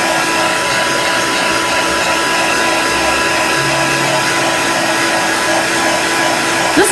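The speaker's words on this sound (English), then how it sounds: "So I'm going to dry this for just a moment using my heat tool." A heat tool blows hot air onto homemade candy corn in a steady, loud whooshing hum that continues unbroken throughout.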